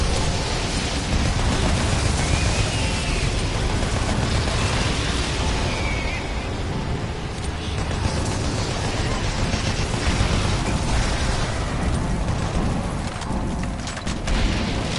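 Loud, continuous explosions and heavy weapon blasts in Doom 3 roar up close for the whole stretch, dense booms and bursts layered over rumbling game noise.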